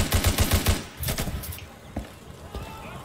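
Gunfire in the tactical shooter Insurgency, opening with a fast burst of five or six sharp automatic shots, followed by scattered, fainter single shots and distant cracks as a voice speaks in the background.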